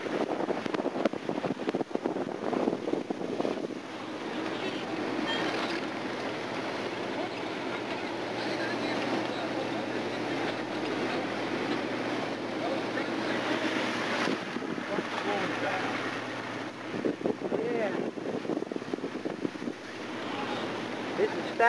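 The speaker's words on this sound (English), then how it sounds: "This is South Carolina. Blizzard conditions." Blizzard wind in Rock Hill, South Carolina, February 2004, roars steadily across the microphone in a continuous broadband rush, with gusts swelling near the start and end.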